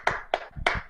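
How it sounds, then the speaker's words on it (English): Three sharp hand claps in quick succession at a virtual Zoom demo, close and fairly quiet. "A big round of applause, everybody."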